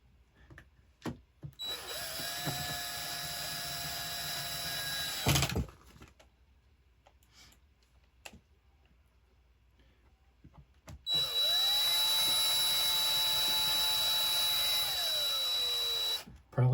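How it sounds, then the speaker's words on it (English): A cordless power tool tightens parts on an Arrma Nero Big Rock 6S RC truck, with two sustained whirring runs of several seconds each, the pitch sliding as the tool loads, separated by a quiet gap with small clicks. "Switch from hand power to cordless power because it's quicker."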